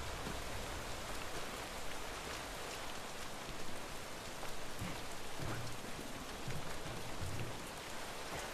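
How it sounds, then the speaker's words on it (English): Heavy rain in the video game DeadLight pours down steadily, a dense constant hiss with faint low rumbles underneath and no voices. "It's raining hard as shit."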